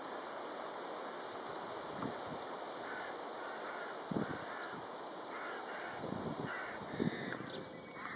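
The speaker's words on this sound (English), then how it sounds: "Now these are rooks, and the one that is making the noise is a juvenile." Juvenile rooks caw with scattered harsh calls at a distance, sounding now and then over a steady outdoor ambient hiss.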